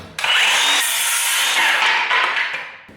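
Saw cutting through a piece of timber to split it in half, a steady loud rasping cut lasting a few seconds that starts suddenly and tapers off at the finish.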